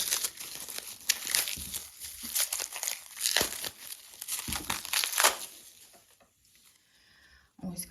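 Plastic wrap crinkles and tears as it comes off a new tarot card deck, a busy run of close, crackling rips and rustles that thins to quieter handling near the end.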